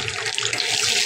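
Whole spices dropped into hot oil left from frying prawns, a brief burst of loud, close crackling sizzle with no voices.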